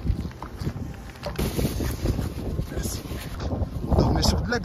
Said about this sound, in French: on s'est mangé des rafales de vent, il y a toujours du vent de ouf